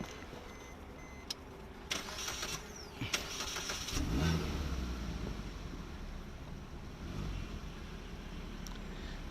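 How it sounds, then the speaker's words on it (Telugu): A Maruti Suzuki Swift car engine cranks and starts, then settles into a steady idle, heard close but moderately quiet with wind in the background. "సార్, ఇంజన్ స్టార్ట్ చేయండి."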